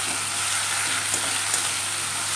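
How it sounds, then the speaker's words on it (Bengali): Onion paste and spices frying in hot oil, a loud, continuous dense sizzle with a couple of faint stirring clicks, no voices. "এবার এটাকে সুন্দর করে কিন্তু আমি মশলাটাকে ভেজে নিব বন্ধুরা"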